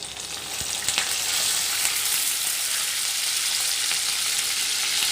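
Dried red chilies, curry leaves, garlic and chana dal frying in hot oil: a close, continuous crackling sizzle that holds steady throughout with a few sharper pops, and no talking.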